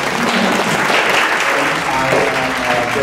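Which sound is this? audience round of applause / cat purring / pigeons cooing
audience round of applause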